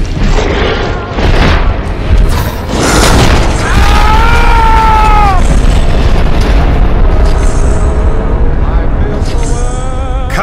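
A booming explosion rolls out in a Fallout video game during a Deathclaw fight, with heavy low rumble, bursts of debris and a voice cutting across the blast.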